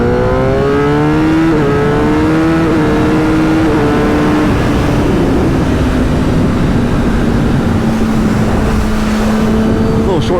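Kawasaki ZX10 sport motorcycle accelerating hard up through the gears with a quick shifter, loud and close, its engine note rising and stepping down with each rapid short shift before settling into a steady high drone.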